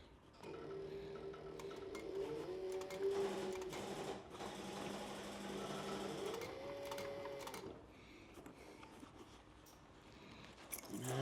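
Sewing machine stitching together a canteen purse, running in steady bursts of whirring needle action with short pauses between, close and moderately loud, with no talking.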